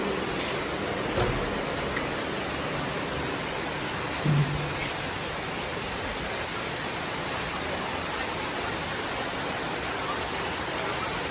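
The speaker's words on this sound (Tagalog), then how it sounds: "At grabe ang ulan." Steady heavy rain hisses evenly throughout, a dense wash of drops with a couple of faint knocks underneath.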